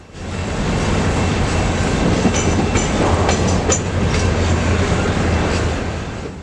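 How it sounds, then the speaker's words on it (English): A freight train with a Union Pacific three-bay hopper rolls through the Galesburg, Illinois rail yard with a loud, steady rumble. Wheels clack at the rail joints and thin squeals rise now and then, with no voices. "we see a Union Pacific 3-bay hopper"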